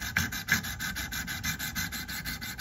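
A knife blade is sharpened with a steady run of quick, rhythmic rasping strokes, close and moderately loud, with no talking.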